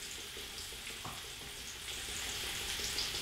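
Ginger hitting a hot aluminum pan gives a steady, close frying sizzle with a faint hiss that swells slightly toward the end, no voices present.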